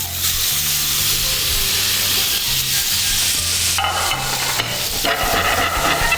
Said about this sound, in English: Oh, that sizzle, that is what we are looking for.